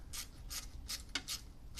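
Ratchet with an 8mm socket turning a bolt into aluminum, several short rasping clicks in a steady rhythm, close and fairly quiet.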